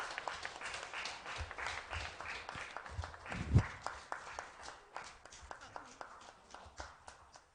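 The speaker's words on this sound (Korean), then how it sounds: "오늘까지 강연을 연마해 주신 유서영 교수님께 큰 박수 부탁드립니다." Applause for a lecturer at a youth Dharma service in a Won Buddhist temple hall: a room full of hands clapping steadily, fairly soft and even, with one sharper thump midway and the clapping tapering toward the end.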